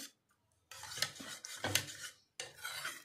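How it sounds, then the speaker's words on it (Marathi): Cooked urad dal is mashed in a pot, with close, repeated scraping and clinking strokes of a utensil against the metal in short uneven bursts separated by brief pauses. "आणि आता ही डाळ इथे आपल्याला थोडीशी घोटून घ्यायची आहे"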